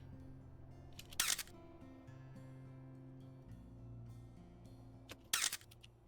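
Two crisp camera shutter clicks in the WolfQuest wolf game, a few seconds apart, each sharp and close over a quiet humming music bed.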